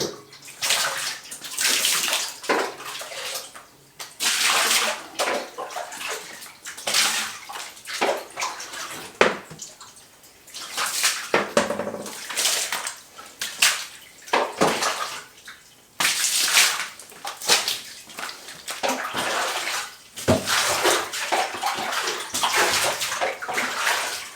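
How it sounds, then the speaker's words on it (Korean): Clean water sprays from a shower head to rinse down a bathroom after cleaning, a steady hissing splash that comes in bursts, pausing and resuming repeatedly as the spray is moved around the surfaces. "깨끗한 물로 뭐 샤워기 같은 걸 뿌려줘서 깨끗이 씻어 내리시면"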